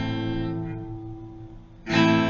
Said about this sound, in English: A minor sounds like so.